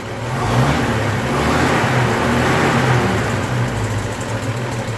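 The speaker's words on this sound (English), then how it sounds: "And it's running. And it's idling fairly well." A 1929 DeSoto engine idles steadily at close range, a continuous low rumble with an even, slightly uneven throb throughout.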